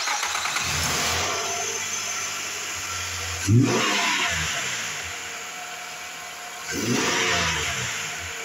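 A gray 2017 Nissan Pathfinder SV with front-end damage runs at a steady close idle, with two loud revs of the engine partway through and near the end.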